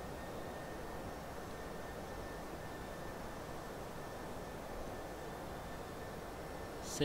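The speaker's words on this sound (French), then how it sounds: "on entend bien le bruit de l'avion là quand il réduit" Boeing 757-300 jet engines spooling down as thrust is reduced in flight, a steady broadband roar with a low rumble, moderately loud and continuous with no voices.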